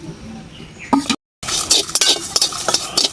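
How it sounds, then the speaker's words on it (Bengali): Whole cumin, coriander seeds and dried red chilies crackling and popping in hot oil, close and fairly loud, with sharp bursts of spattering and a brief gap before the frying resumes. "ফটফট করে যে ভাজতেছে,"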